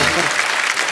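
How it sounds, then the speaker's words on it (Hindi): Loud studio audience applause on The Kapil Sharma Show, a dense burst of clapping that fills the whole brief moment. "जोरदार तालियां।"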